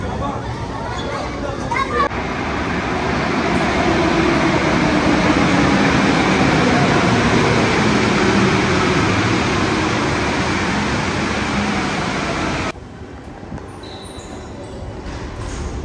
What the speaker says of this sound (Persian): متروهای شهری پاریس، یکی از استانسیون متروی شهر پاریس.